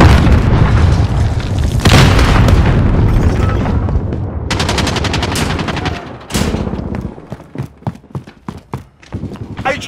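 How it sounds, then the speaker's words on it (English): Gunfire and a grenade explosion crack through a Call of Duty: Modern Warfare multiplayer round, with heavy booms early on and rapid automatic bursts later, loud and dense throughout beside occasional game voice callouts. "Grenade out."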